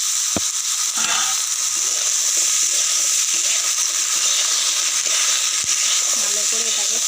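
A steady, close hiss of taro and spices sizzling and being stir-fried in a hot pan, with a couple of faint knocks of the utensil and quiet talking underneath.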